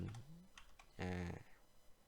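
A few quick keyboard keystrokes typed on a computer while coding in Python, soft close clicks in a short burst, followed by a faint brief voice.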